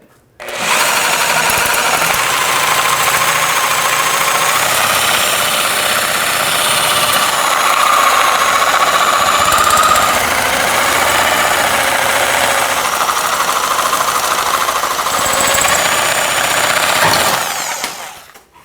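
Cutting tool slicing through the rear lower control arm bolt on a 2003-2009 Toyota 4Runner: a loud, continuous high-pitched grinding whine held for about sixteen seconds before stopping.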